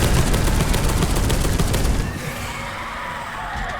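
Rapid automatic gunfire from the game Space Hulk: Deathwing roars in a loud, continuous burst for about two seconds, then drops to a quieter rumble.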